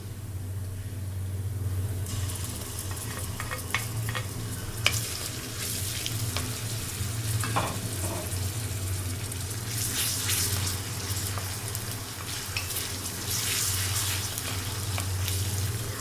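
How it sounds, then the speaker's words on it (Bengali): Softened onion frying with freshly added garlic and ginger paste for a bottle gourd and egg curry, a quiet steady sizzle with a low hum beneath and scattered scrapes and clatters of stirring nearby. "আমি এখন বাটা মশলাটা দিয়ে দিচ্ছি, রসুন এবং আদা বাটা।"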